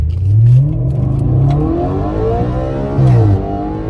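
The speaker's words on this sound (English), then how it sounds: "Now why don't we get a hard acceleration, shall we?" An Audi RS5 engine revving hard under full acceleration, loud rising whine climbing through gears with a brief drop and surge near the end.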